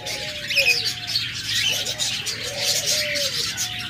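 Pet birds such as lovebirds, budgerigars and cockatiels in full breeding mode call continuously in a dense chorus of bright chirps and squawks, with lower cooing sounds beneath.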